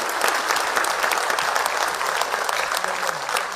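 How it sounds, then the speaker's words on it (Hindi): Steady, dense applause from an audience filling a hall at a stage event, a continuous close roar of clapping with no pauses. "जोरदार तालियों से स्वागत करें"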